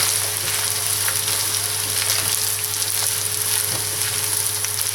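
Rice with tinapa (smoked fish) stir-fried with a ladle pressed against the pan, a steady loud sizzle with soft scraping strokes and a constant stove hum underneath, close up.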